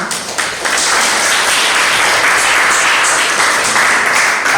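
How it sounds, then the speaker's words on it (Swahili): Sustained audience applause at the Pot Culture Concert 2020, a dense, steady wash of many hands clapping that swells in after a brief start and holds loudly throughout. "Na makofi mengine mengi kwa Port Culture."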